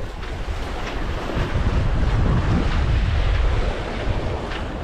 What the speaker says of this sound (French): Le vent a tourné comme prévu.